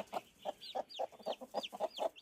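A hen with her chick in a mountain forest clucks in a quick, steady series of about a dozen short, close calls, while thin high peeps from the chick are heard between them.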